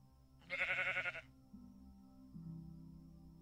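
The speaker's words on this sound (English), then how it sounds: "Oh, look, a sheep!" A single sheep bleats once in a video game, a loud wavering call lasting under a second, followed by quiet background game tones.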